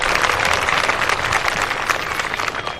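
Audience at an evening satsang in Chittorgarh clapping together in a dense, sustained wave of applause with no talking over it.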